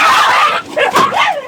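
A dog gives a few sharp barks and yips close by, followed by higher whimpering whines, all within a second and a half.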